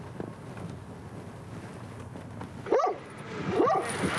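A police dog barks twice at a nighttime scene in an alley, the sharp barks fairly close over steady wind and outdoor background noise.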